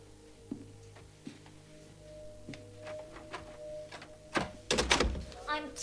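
Knocking on a door in a 1999 film: a few sparse knocks spread out, followed by a louder burst of rapid raps near the end, set against quiet room sound.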